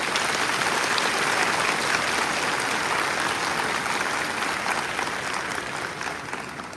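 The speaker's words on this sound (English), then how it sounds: "Let me hear a round of applause for Mr." A large audience at a fall commencement ceremony claps in sustained, dense applause that fades slightly toward the end.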